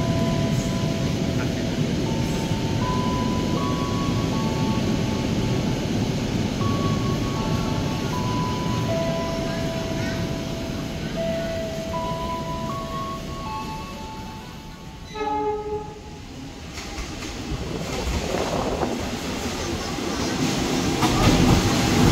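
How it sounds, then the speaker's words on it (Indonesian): The Argo Parahyang Panoramic Executive train rumbles through a busy Jakarta station with a steady, loud rolling roar, wheel and track noise building near the end, and brief tonal whines and a burst of horn-like tones midway. "Argo Parahyang Panoramik Eksekutif Jakarta Bandung."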